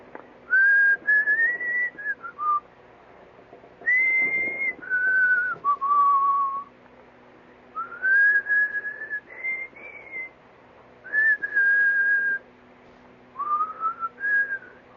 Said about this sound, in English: That's what I was whistling